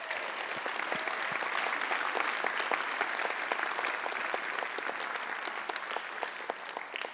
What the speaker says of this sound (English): can we just give our Groundbreakers a huge round of applause?